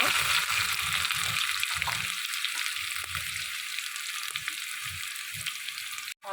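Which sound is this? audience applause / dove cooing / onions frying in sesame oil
onions frying in sesame oil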